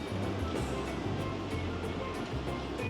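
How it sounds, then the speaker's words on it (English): Ocean waves break at the seaside in Hermanus, heard as a steady, close wash of surf noise with a low rumble and no clear pauses. "I've actually got to keep an eye on the waves."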